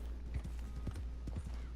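Horse hooves clip-clop in the Red Dead Redemption 2 video game, a short run of soft, evenly spaced footfalls over a low, steady background hum.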